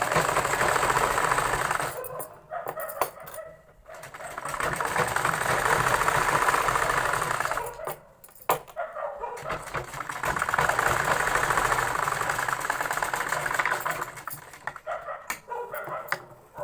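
A sewing machine stitches a seam on a salwar belt, running in long loud bursts of rapid mechanical whirring with short pauses and clicks between runs, close up, with no talking.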